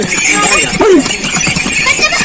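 A horse on the trail to Kedarnath gives a short whinny over a busy background, with people's voices mixed in nearby.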